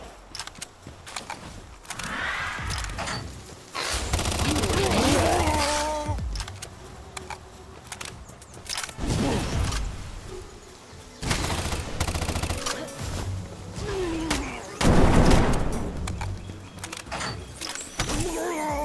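Gunfire in Palworld, scattered bursts of rapid shots mixed with mechanical whirs and clanks, fairly close and repeated across a busy stretch of game action.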